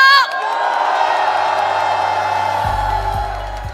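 A large crowd at a Korean political rally calling for a president's impeachment erupts in loud, sustained cheering and shouting, a dense roar that holds steady for several seconds, with a deep low rumble joining near the end.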